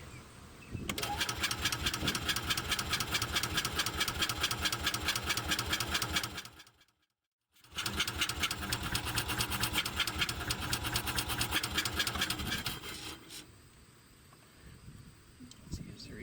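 Bobcat Pioneer utility vehicle engine runs with a fast, steady mechanical chatter, cuts out briefly to silence, then restarts and keeps running before dropping to a quieter idle near the end.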